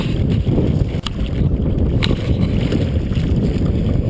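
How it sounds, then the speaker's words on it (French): Steady broadband rush of wind and sea swell against a kayak, waves sloshing close by, with a couple of brief knocks and no talking. "ici j'ai de la houle, du vent, du courant et des vagues"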